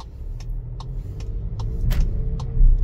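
A car in motion, heard from inside as a steady low road rumble with faint intermittent ticks and clicks from the cabin, with the rumble growing slightly toward the end.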